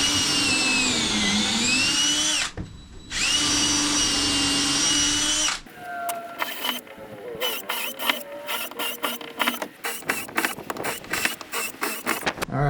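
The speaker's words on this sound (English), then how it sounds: "All right, let's drill some holes." A power drill bores holes in a wooden boat frame near the bilge, a steady close whine for several seconds with a short pause, then a stretch of choppy, uneven bursts and clatter as the work continues.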